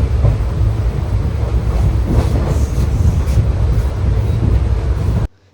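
A train roars past close by, a loud continuous rumble mixed with wind buffeting, cutting off abruptly at the end.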